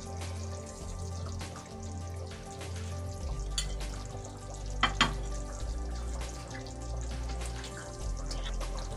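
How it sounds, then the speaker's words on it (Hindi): Keema aloo matar sizzling in a pan while being stirred, a steady close frying hiss with a low hum underneath and a few sharp scraping knocks of the spoon against the pan midway. "एक दफा चला के डिश आउट करेंगे"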